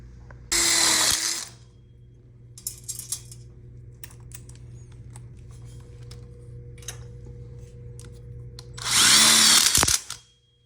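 A power drill drives screws into a wooden outdoor kitchen frame: two loud bursts of about a second each at the start and end, with quiet handling clicks and taps between them.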